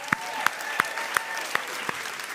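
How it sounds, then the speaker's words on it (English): Audience applause at the 2024 Northern Writers' Awards ceremony: a thin, sparse patter of about six evenly spaced sharp claps, fairly faint and heard from a distance rather than a full ovation. "so special applause for Laura"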